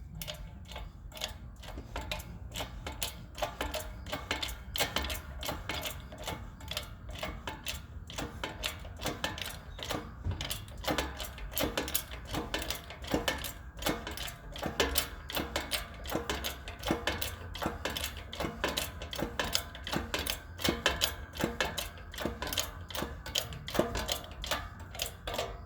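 A bearing is pressed onto a 35-spline axle, with close, repeated metallic clicks and ticks in a quick, uneven rhythm that runs through the whole stretch, with no talk.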